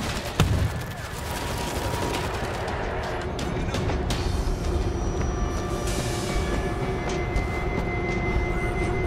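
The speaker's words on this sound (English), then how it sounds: "I'm backing the train up a little to give it some room." A train backs up slowly in the zombie shooter World War Z, giving a steady, loud rumble with metallic rail clatter and scattered gunfire throughout.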